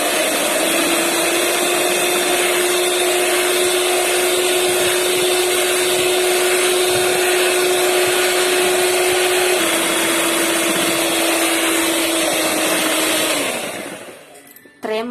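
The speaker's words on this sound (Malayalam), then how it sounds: "രണ്ടാമത്തെ അതിൽ നമ്മൾ ബീറ്റ് ചെയ്യുമ്പോൾ സ്പീഡ് കൂട്ടി കൊടുത്തിട്ട് വേണം ബീറ്റ് ചെയ്യാൻ" Electric beater whipping custard ice cream mixture at high speed, a loud sustained whine with a steady hum that shifts slightly partway through, running nearly the whole time before winding down at the end.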